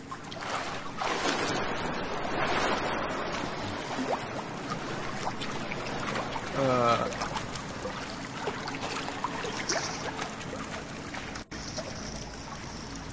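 Water in the survival video game The Forest: a quiet, continuous wash of flowing, trickling water with a soft wind-like hiss. It plays alone with no talk.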